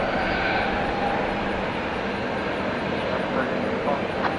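An airplane at DFW Airport at night roars steadily at a distance, a broad continuous engine rumble with no clear rise or fall, while a voice talks quietly over it.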